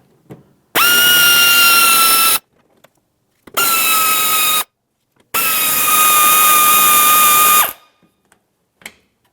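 A power drill spins out 5.5mm screws from the front bumper cover and inner fender well of a 2009-2019 Ford Flex, with three loud, close whining bursts of rising length separated by short silences.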